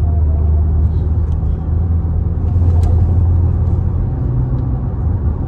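Dodge Challenger Hellcat Redeye in need of new tires, cruising with a steady, deep engine rumble heard from inside the car, loud and continuous, with no talking.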